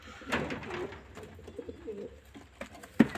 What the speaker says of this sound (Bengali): এগুলো সব মেয়ে পায়রাগুলো আছে